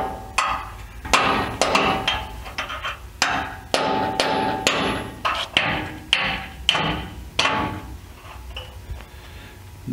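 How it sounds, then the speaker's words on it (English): A chisel is hammered to work a flat bracket piece off a Chevrolet S10 frame, with about a dozen sharp metallic strikes in an uneven rhythm, close and loud, and no talking. "Now I'm taking the chisel, just working it up."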